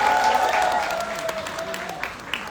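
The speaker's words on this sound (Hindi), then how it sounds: "इसलिए आपके लिए एक बार जोरदार ताली" Applause from a live audience at a Bollywood event, a steady dense clatter of many hands clapping throughout, mixed with a voice speaking over it.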